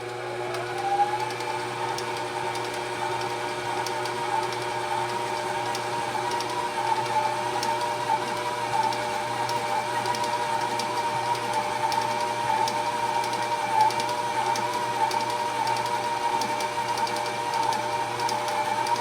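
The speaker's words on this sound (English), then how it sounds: "I'm going to put my mixer back up and I'm going to mix this together" A stand mixer works bread dough in a home kitchen, its motor whirring steadily and droning close by for a long stretch with no talking, the hum lifting slightly early on.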